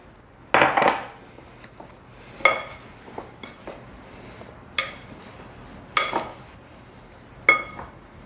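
Coated apple pieces are turned in a bowl for an apple pie, giving several separate scraping clinks of a utensil against the dish, each sharp tap followed by a short rustle, spaced a second or so apart in a quiet kitchen.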